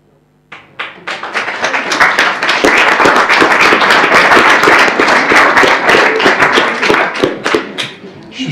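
Applause from an audience at a formal session on illicit antiquities trafficking, starting abruptly after a quiet moment, swelling into loud, dense clapping and holding steady before fading slightly.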